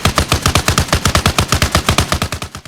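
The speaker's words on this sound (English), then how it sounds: "So let's check out our new turret here." Rapid automatic fire from a new mounted turret gun in Arma Reforger, a loud, steady stream of about nine shots per second, close by with no talk.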